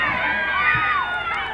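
A crowd at a boys' lacrosse game cheers and shouts loudly throughout, with high, excited young voices rising and falling together.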